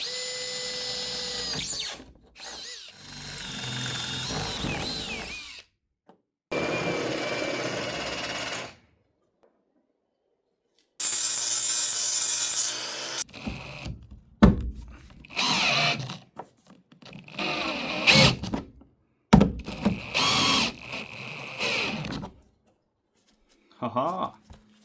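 Power drill with a dull bit working on a Ford Transit van, whining in repeated short bursts separated by pauses, with people talking between runs.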